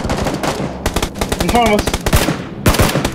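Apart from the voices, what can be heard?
gunfire in PUBG video game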